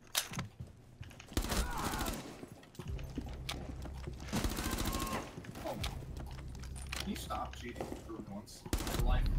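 Bursts of rapid gunfire from a Rainbow Six match with friends, loud clattering volleys repeating through the stretch with short gaps, mixed with game noise while players talk over it.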